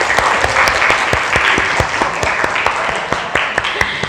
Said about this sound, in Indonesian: Tepuk satu, tepuk dua, tiga, tepuk tiga, tepuk yang banyak.